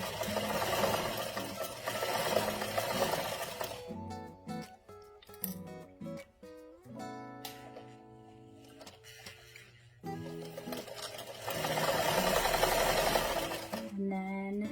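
Sewing machine stitching fabric for a scrunchie, a dense rapid whirring run that stops, a quiet stretch with clicks and handling, then resumes stitching at full speed, close by.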